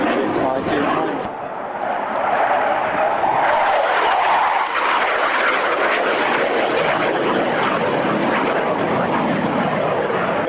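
Patrouille Suisse jets perform a display at the Fairford air tattoo, a loud, sustained roar that swells and shifts in pitch as the aircraft pass, with a commentator talking over it.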